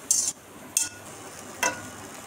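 Three short, bright scraping swishes as a vegetable mixture dressed with chilli sauce and vinegar is tossed and mixed in a bowl, spaced apart with quiet gaps between, close and fairly crisp.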